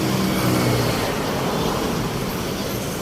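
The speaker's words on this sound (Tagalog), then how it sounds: "Paalis lang po ng isang sasakyan." A car pulling away on a roadside in Cavite near a bibingka stall, a steady rumbling engine and road noise that slowly eases off, surrounded by general traffic hum.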